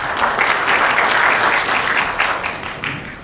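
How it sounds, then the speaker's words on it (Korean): Audience at a rural business briefing applauds warmly, dense sustained clapping that stays loud before tapering slightly at the end. "큰 박수 부탁드립니다."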